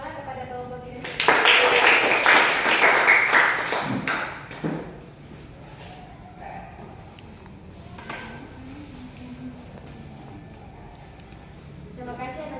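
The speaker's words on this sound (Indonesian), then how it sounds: "Kita berikan tepuk tangan kepada kelompok kinestetik." A classroom group gives a short burst of clapping for a presenting group at a teacher-training session, loud and close for about three seconds before fading into quiet room sound and a few soft taps.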